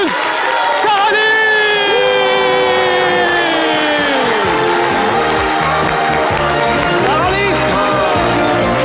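A studio audience cheers and whoops to welcome a singer onto a live variety show. The crowd noise is dense and sustained over loud music, with a few shouts rising above it.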